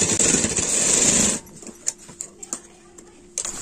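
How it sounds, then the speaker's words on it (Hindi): A sewing machine runs steadily and loudly while stitching a half collar on cloth for about a second and a half, then stops, leaving a few light clicks and taps. "आप सिलाई को यहाँ से ध्यान से चलाएं"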